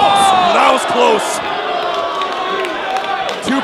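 Live wrestling event crowd roaring and cheering in a large venue, a sustained dense wall of voices with whoops rising over it, while a commentator talks over the noise.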